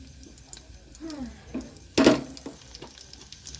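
Dried red chillies, cumin and garlic sizzling in hot oil for a tangy pickle, a low crackling fry with a few louder spits and stirring clatters, one sharp burst near the middle.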